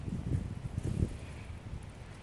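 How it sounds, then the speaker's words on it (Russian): Wind gusting across a phone microphone outdoors, a low rumbling buffet that swells and ebbs over a couple of seconds with no talking. "И простите за ветер."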